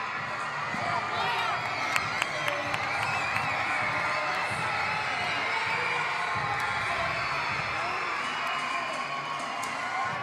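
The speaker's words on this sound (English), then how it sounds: "The vocal home crowd here at Parkville trying to get behind their Southside Melbourne Flyers" A vocal home crowd at Parkville cheers and roars steadily throughout a WNBL women's basketball game between the Southside Melbourne Flyers and Townsville Fire, a dense, continuous wash of indoor voices with occasional sharper shouts.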